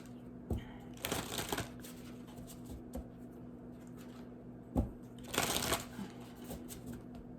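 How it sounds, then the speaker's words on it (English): Tarot cards being shuffled up close, two distinct riffling bursts separated by quiet gaps, with a soft steady hum underneath. "I just want to pull one more card."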